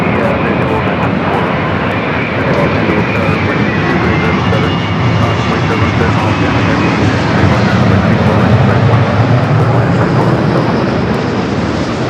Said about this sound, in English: That's the 787-9 Dreamliner coming from Tokyo Narita.